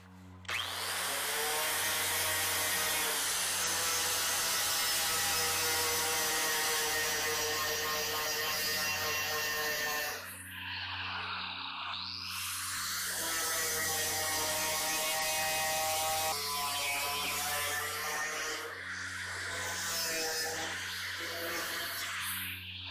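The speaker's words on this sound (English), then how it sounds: "First I'm going to clean this all off with a wire wheel." A wire wheel grinds rust off the metal of a car's rusted rear window corner with a loud, sustained mechanical whine and scraping that runs for the whole stretch, briefly dipping partway through.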